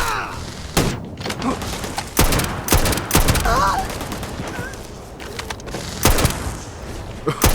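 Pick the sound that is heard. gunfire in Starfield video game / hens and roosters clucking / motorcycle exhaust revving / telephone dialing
gunfire in Starfield video game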